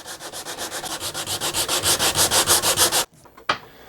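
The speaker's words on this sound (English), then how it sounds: "I've switched over to a firm sanding block with 80 grit sandpaper on it" Rapid, even back-and-forth rasping strokes of a firm block with 80-grit sandpaper sanding a guitar body flat, about twenty in a steady rhythm, then stopping abruptly, followed by a single knock.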